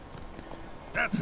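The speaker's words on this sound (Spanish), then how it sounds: "Para guiar a tu caballo. Mientras tomas para pasar a medio galope." Horse hooves cantering in The Witcher 3: Wild Hunt video game, a brief clip-clop of a few quick hoofbeats under a game voice.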